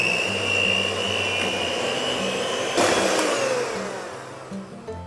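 An electric mixer beats tres leches cake batter, a steady whirring motor drone running continuously and fairly close, with a brief surge in the middle and no talking.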